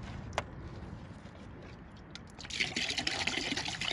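Water pours into a container for a white vinegar spray mix, a faint trickle at first that swells into a steady, louder splashing stream for the last second and a half, with no talking.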